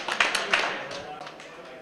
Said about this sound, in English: If you can hear my voice, clap 3 times.